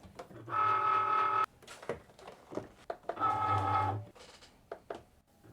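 A Cricut cutting machine starts a print-then-cut job with two long, tonal motor whines separated by a pause, scattered with small clicks and taps of the carriage moving, fairly quiet and close.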